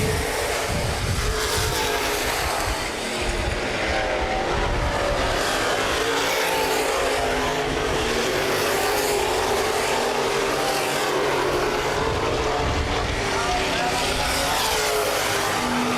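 Open-wheel modified race cars roar continuously at full throttle at Baer Field Speedway, a dense, loud drone as several cars run together, with a commentator talking over it.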